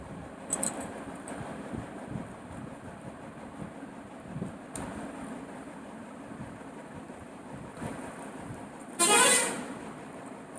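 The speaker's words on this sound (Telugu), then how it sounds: "రెండో బస్సు ఇప్పుడు వెళ్తుంది." A bus passes on the road with a short, loud horn toot near the end, over low traffic rumble and a few faint earlier toots.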